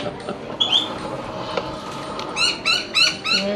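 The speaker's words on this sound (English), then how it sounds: "They're called noisy miners." Noisy miner birds call close by in Brisbane, with a few scattered chirps giving way to a run of loud, repeated piping notes in quick succession.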